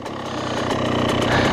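A Yamaha YZ125 two-stroke motorcycle engine running during top-end break-in, a close, loud buzzing drone that rises slightly over a brief stretch.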